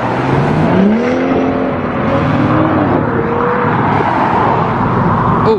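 A Ford Mustang pulls away from a car meet, its engine rising and revving loud and close over a rumbling roar, the pitch sweeping up and falling back as it accelerates, with no one talking.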